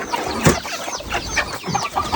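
Hens on a small poultry farm cluck while being fed coarsely ground sorghum and millet, a close, busy run of overlapping short clucks and calls.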